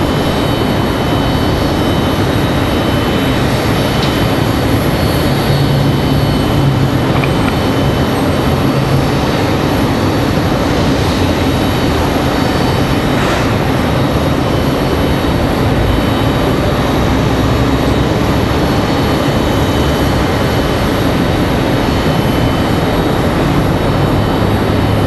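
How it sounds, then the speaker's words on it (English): Frontier Airbus A321neo airliner arriving at Raleigh-Durham airport, a loud continuous broadband engine roar holding steady for the whole stretch, with faint higher whines and no voices. "It's going to be Frontier 2059. Again, this one, an A321 Neo coming in from Philadelphia."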